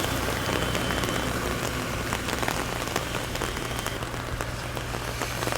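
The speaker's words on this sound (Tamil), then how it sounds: "மழை பட்டையை கிளப்புது மறுபடியும்" Heavy rain pours down during a road trip in Andhra Pradesh, a loud, dense patter drumming on a surface close by, with sharp individual drop impacts over a constant low rumble.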